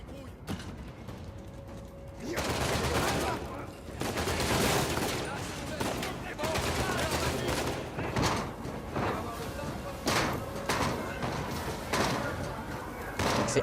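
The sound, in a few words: gunfire in Uncharted 4 video game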